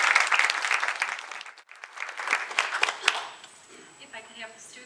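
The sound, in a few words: audience applause for the college trustees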